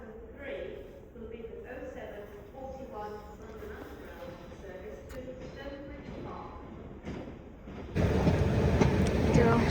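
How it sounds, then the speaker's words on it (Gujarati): A train at a London railway station, with a voice talking through most of it before a loud, broad rush of rail noise swells up near the end. "ત્યાં ટ્રેન ઊભી છે"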